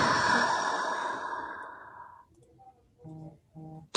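A long, deep exhaling breath taken to calm down, a loud airy rush that slowly fades out, followed by a few soft clicking sounds at close range.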